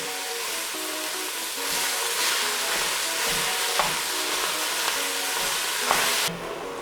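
Chopped beef browning in a hot pan, a steady loud sizzle and hiss with occasional scraping and stirring knocks, no talk.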